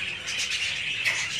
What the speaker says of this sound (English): Love bird.